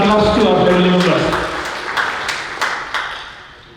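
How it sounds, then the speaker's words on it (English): Audience applause at a company team festival starts under a speaking voice, then continues as scattered claps that fade out toward the end. "So let's give another round of applause to our family members."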